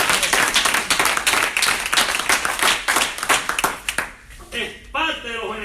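Church congregation clapping together in rapid, dense rhythmic applause that fades after a few seconds, followed by a voice speaking.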